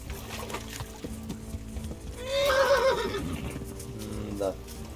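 Horse neighing in a video game, a single whinny of about a second rising over steady game ambience with speech-like background chatter, moderately loud and fairly close.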